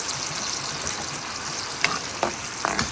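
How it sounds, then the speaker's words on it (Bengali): Onion frying in a pan, a steady close sizzle with a few short stirring scrapes toward the end. "পেঁয়াজটা আমার একটু ভাজা ভাজা হয়েছে, আমি পেঁয়াজটাকে আরও একটু নরম করে নিই।"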